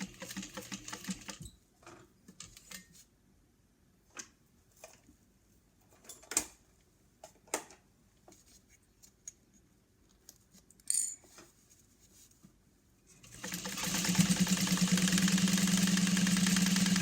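A sewing machine stitches a quarter-inch seam across the top of a bag. Scattered small clicks and handling noises in near silence give way to a loud, steady, close-up motor whir near the end.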